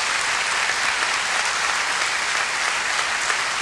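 Congregation in a church clapping together in sustained, dense applause, steady and loud throughout with no speech over it.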